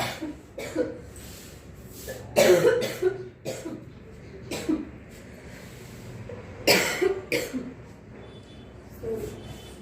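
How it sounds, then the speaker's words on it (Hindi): A person coughs repeatedly in short, harsh bursts, several spaced coughs close to the microphone with quiet pauses between them. "तबीयत थोड़ी खराब चल रही है, खांसी हो रखी है"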